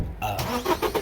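Loud car engine idling and rumbling nearby at a roadside gathering, with broad low rumble and a few short surges in level.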